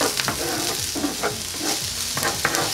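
Onions and garlic frying over medium heat in a pan for a pork stew, a steady close sizzle with repeated rhythmic stirring scrapes; no talking.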